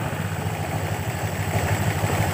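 A Honda Vario 125 scooter engine, faulty with a flickering RPM warning, running steadily close by with a low throbbing hum and faint clatter, no clear rev spikes, no voices.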